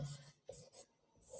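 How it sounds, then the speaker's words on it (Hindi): Chalk scratching across a classroom blackboard in short strokes with brief pauses between them, close and fairly quiet, with no talking. "बोर्ड पे ऐसे लिख रहा हूं"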